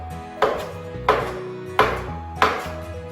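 Roast pumpkin cut into small pieces with a knife on a board: four evenly spaced, sharp chopping knocks, close and clear, with no voices.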